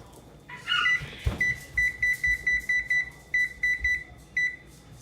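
An oven control panel beeps as the temperature is set to 425, starting with a brief chirp and a thump, then about a dozen short, crisp electronic beeps in an uneven rhythm, loud and close.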